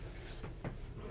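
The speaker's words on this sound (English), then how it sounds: "4 nice pull-out drawers" Two short soft knocks and a slide as a pull-out drawer opens in the kitchen of a 2023 Newmar Supreme Aire 4061 RV, close, over a steady background hum.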